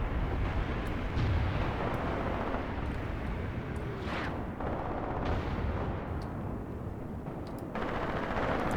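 An enemy mortar fires amid a dense battlefield din in the video game Graviteam Tactics, with heavy thumps and rumbling blasts layered over continuous loud gunfire and explosions, all dense and unbroken.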